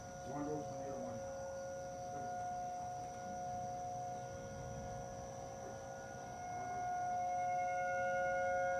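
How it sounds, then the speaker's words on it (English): Tornado warning civil defense sirens sounding at night in Beloit, Wisconsin, a faint steady distant tone under a low electrical hum, with faint voices in the background. "Yeah, tornado warning. The sirens are going off."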